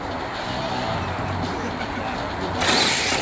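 Radio-controlled monster trucks race on a dirt track with ramps, a thin, buzzing motor whine under an announcer's commentary, rising into a brighter, louder surge near the end.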